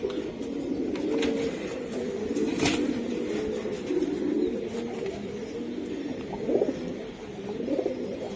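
Several pigeons coo steadily and continuously at close range, with a soft wing flutter near the middle, among top-quality fancy breeds including Budapest, Pakistani and Madrasi pigeons kept for flying.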